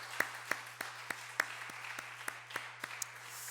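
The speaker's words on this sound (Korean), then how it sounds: "큰 우리 박수로 한번 감사하겠습니다." Congregation applause at a Marine Corps church Sunday afternoon service in thanks for the worship singers: sparse, evenly spaced claps, fairly faint over a steady low electrical hum.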